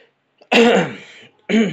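Two harsh, throaty bursts close up, a longer one followed a moment later by a shorter one, like a cough or throat clearing.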